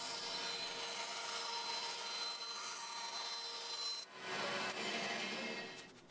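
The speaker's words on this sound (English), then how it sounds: "Cutting out that shape on the bandsaw." A bandsaw cuts a curved shroud shape from wood, giving a steady, continuous whirring hiss with a brief dip near the end as the blade passes through and the cut resumes, close and loud with no voices.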